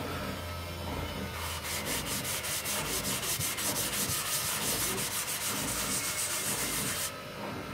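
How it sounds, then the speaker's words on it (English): Steady rapid rubbing of a cloth with cooking oil over freshly sanded wood, a close, rhythmic scrubbing that runs for several seconds and then stops, with no talking. "I'm going to rub a bit of oil on it."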